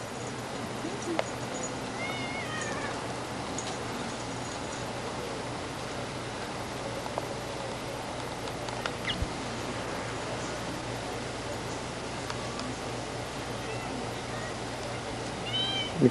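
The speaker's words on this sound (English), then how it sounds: "The cat that plays fetch." A cat that plays fetch meows a few times indoors on old camcorder footage, short cries over a steady hiss of background noise, with people talking at times.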